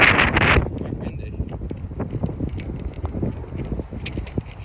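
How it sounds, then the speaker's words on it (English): Wind buffeting a microphone on a golf course, with a loud gust at the start and then gusty rumbling and scattered knocks and rustles. "Quite windy."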